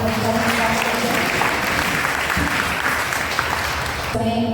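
A church congregation in Delhi claps loudly together during a satsang gathering, dense and sustained, with a voice heard briefly at the start and again as the applause fades near the end.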